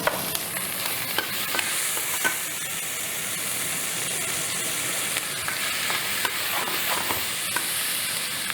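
Frozen chilli sizzles loudly in a hot frying pan with browning pasta-sauce ingredients, a steady close hiss and crackle broken by small clicks of stirring, with no voices.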